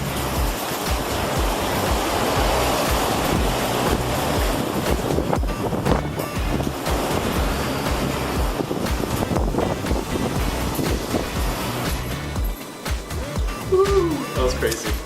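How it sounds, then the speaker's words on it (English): Strong typhoon wind roaring across the microphone with crashing waves and surf, a dense continuous rush of noise, loud and close, with no clear talk. "It was so windy"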